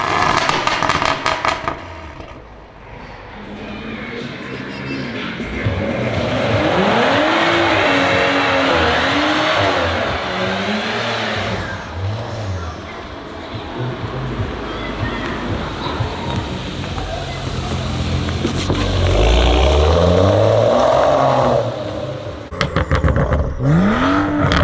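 BMW M135i hatchback exhaust, stock or straight-piped, revving and accelerating hard through several gear rises, loud and close with rising engine pitch sweeps and a brief tire squeal.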